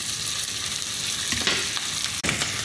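Onions sautéing in a pan for butter shrimp, a steady close sizzle and frying hiss throughout with occasional stirring scrapes, loud and continuous with no voices.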